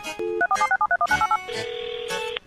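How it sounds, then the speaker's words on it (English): A quick run of electronic dial tones chirps in short bursts, then a steady flat tone holds for about a second before cutting off, loud and close with no talking. "Hey, Philip, tell me if this sounds like a phone hanging up"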